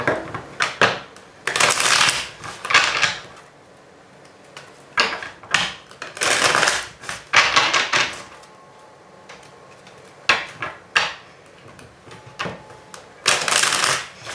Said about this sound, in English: I just want to give a quick shuffle.